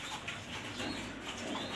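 Pigeons at a pigeon loft give soft, low cooing calls in gentle repeated phrases, faint and fairly close, over light background noise.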